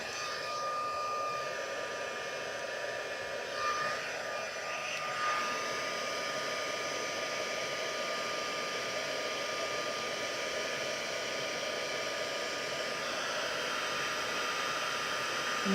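Steady, close, continuous blowing whoosh of a heat tool melting embossing powder for a Stampin' Up Halloween craft, running unbroken for the whole stretch with no talk over it.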